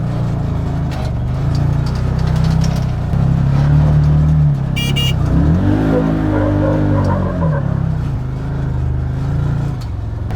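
A Can-Am Commander side-by-side climbs the Fins and Things slickrock trail in Moab in two-wheel drive, its engine droning loud and close, revving up and down steadily throughout.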